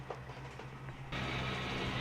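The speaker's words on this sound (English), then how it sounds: "Now we're going to take a look at some trains running around the layout." Model trains run around a railroad layout at a rail show, a steady mechanical rolling and humming that grows louder and brighter partway through, with no talk.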